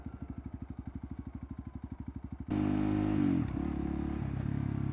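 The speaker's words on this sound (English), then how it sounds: "the twitchy throttle on this thing is so irritating at times." A Honda CRF300L motorcycle engine idles with a rapid, even pulse, then revs abruptly with a twitchy throttle, rising sharply before settling into a steady, louder running note.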